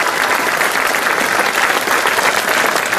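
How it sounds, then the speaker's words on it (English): Steady, dense applause from a school audience at a primary school site opening, loud and continuous throughout with no pauses or voices standing out. "Give him a big round of applause, please."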